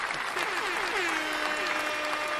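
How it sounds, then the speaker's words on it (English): A burst of dense applause plays continuously at a steady level, with a tonal sweeping sound layered over the clapping. "Round of applause. That's insanely impressive."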